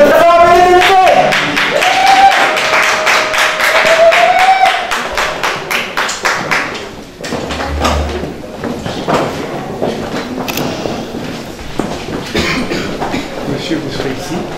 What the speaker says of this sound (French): Applaudissez de très fort, mesdames et messieurs.